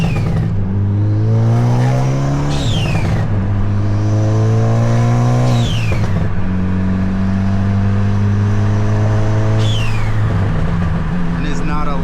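Tuned Hyundai Elantra N engine revving loudly in repeated rising sweeps, pitch climbing then dropping back several times, close and continuous with a steady drone underneath.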